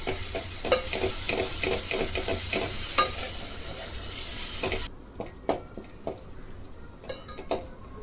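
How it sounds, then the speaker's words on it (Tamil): Ginger garlic paste sizzles loudly with golden-fried onions in oil, spatula scrapes and clinks ticking along; halfway through the hiss drops sharply, leaving quieter scattered stirring knocks against the pan. "இஞ்சி பூண்டு பேஸ்ட்டு சேர்த்து அதை நல்லா பச்சை வாசனை போகிற அளவுக்கு வதக்கிக்கணும்"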